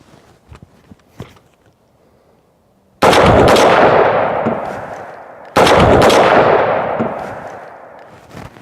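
Two booming gunshots of incendiary ammunition strike a gasoline-soaked mannequin, each a loud blast followed by a long roaring, fading whoosh. Faint ticks and shuffles come before the first shot.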